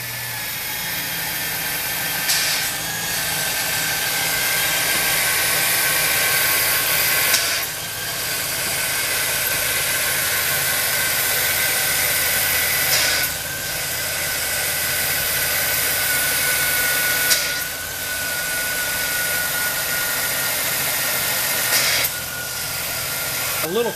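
A Chevrolet Silverado 1500 engine runs steadily with a loud, hissy drone while the steering wheel is turned left and right, with brief dips and surges in the noise as the wheel reaches each lock.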